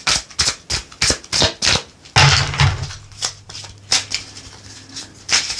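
A deck of tarot cards is shuffled for a Leo reading, heard as a steady run of crisp, close riffles and soft taps in a repeating rhythm, with no voice.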